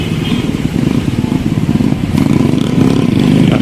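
Several motorcycle engines idling and puttering close by, a loud steady low rumble with slight revving swells and light clatter throughout.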